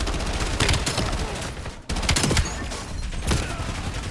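Dense gunfire from pistols and machine guns in the Call of Duty video game, rapid overlapping shots and bursts filling the whole stretch, loud and close with a brief dip midway.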